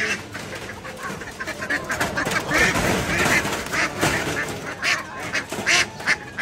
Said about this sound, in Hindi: बड़ी प्यारी बतख है ब्राउन कलर की भी है